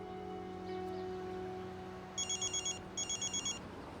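A telephone rings inside a household in two separate bursts of rapid trilling bells, faint and set against quiet room hum, with no one speaking.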